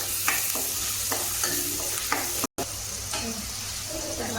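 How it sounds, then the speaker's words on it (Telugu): Onion and salt frying in hot oil, a steady close sizzle with scattered clicks of a spoon stirring the pan and a brief silent gap midway. "ఆయిల్ వేడెక్కాక ఆనియన్ వేయాలి. దాంట్లోనే సాల్ట్ వేయాలి."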